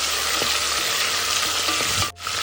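Onions frying in hot oil with mustard seeds, cumin and garlic for a beetroot kulambu give a loud, continuous sizzle close by, with a brief dip near the end.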